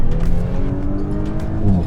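An Audi S5 accelerates hard, its engine note climbing in a loud, close growl with rising harmonics over about two seconds, without talking.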